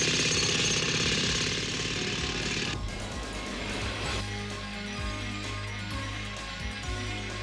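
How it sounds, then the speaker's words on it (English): A cartoon cutting effect for slicing the underside of a meteor, a harsh, loud, continuous grinding roar like a jackhammer that drops to a lower churning drone partway through. "As soon as Skeletor is through cutting the underside, our meteor will be ready for launch"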